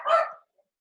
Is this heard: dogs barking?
yes